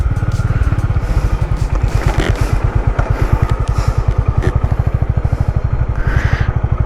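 A motorcycle engine thrums steadily up close with a fast, regular pulsing beat while riding along twisty roads on the way to Pollachi, with wind rush throughout and no talking.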